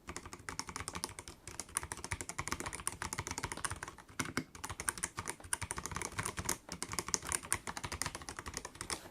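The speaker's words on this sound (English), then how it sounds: "When it's actually down on a desk," Continuous rapid typing on a WhatGeek Machenike K500F B81 TKL clear ARGB gaming keyboard resting on a desk, dense clacky keystrokes with brief pauses near the 4 and 6.5 second marks, close and alone.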